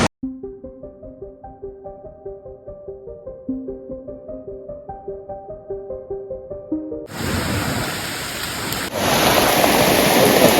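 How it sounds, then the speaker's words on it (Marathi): A gentle, plinking melody plays for several seconds, then cuts to the dense, steady roar of heavy monsoon rain pouring down in a forest. "इकडे पाऊसच पाऊस चालू झाला"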